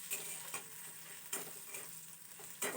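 Potatoes frying in a pan, a steady close sizzle with a few louder stirring scrapes spaced through it.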